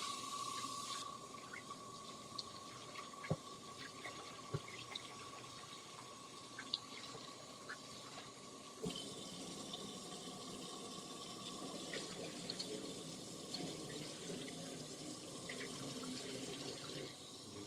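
Tap water runs steadily into a kitchen sink while raw chicken is rinsed, a constant soft splashing hiss with occasional clinks and knocks, fairly quiet and without talk.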